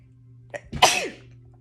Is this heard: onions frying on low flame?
no